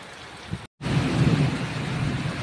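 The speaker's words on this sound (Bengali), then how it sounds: "দেখো জোর বৃষ্টি পড়ছে এখন" Heavy rain pours steadily with lightning about and wind blowing, a dense broad rush close by that drops out for an instant before returning louder.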